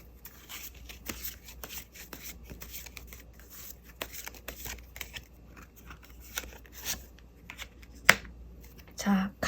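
Tarot cards are riffled and slid against each other in a steady run of soft shuffling and flicking, close up, ending with a card being drawn and placed, while someone talks softly.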